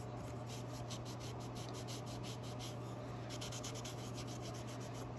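A baby wipe rubs Unicorn Spit paint onto a surface in a soft, continuous, close-up scrubbing hiss with faint stroke-like pulses over a steady low background hum.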